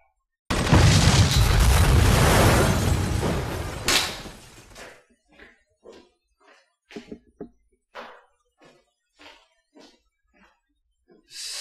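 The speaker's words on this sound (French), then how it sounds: "C'est le labo d'à côté qui a explosé." A laboratory next door blows up with a loud, sustained explosive roar lasting several seconds, followed by a scattered series of short knocks and debris-like bangs fading out.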